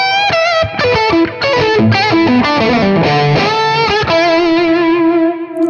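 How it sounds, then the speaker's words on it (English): Heavily distorted electric guitar through a distortion pedal plays a fast lead phrase of bending notes, ending on a long sustained tone, loud and alone with no voices. "it's nice to have a distortion pedal that you can get a nice lead tone out of"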